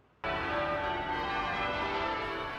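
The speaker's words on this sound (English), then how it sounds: "Church bells rang out earlier this week for the 750th celebration" A large church bell rings out suddenly for a 750th anniversary celebration and sustains with a rich, shimmering tone that slowly fades.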